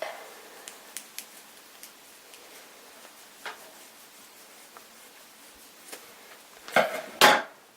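Scissors cut into a T-shirt for a zombie costume: sparse, faint snips and ticks, then two louder, close rasping cuts through the fabric near the end, with no talking.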